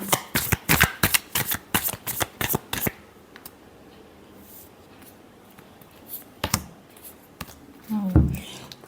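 Tarot cards are shuffled in quick bursts of crisp riffling and flicking, dense at first and then sparse after a pause, with a voice speaking toward the end.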